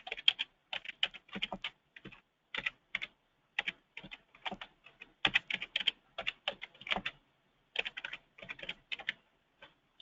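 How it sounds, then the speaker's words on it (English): Rapid bursts of clicking keys on a computer keyboard as ticker symbols are typed in, with short pauses between words and no talking. "I'm going to simply enter the tickers I want to include in my model."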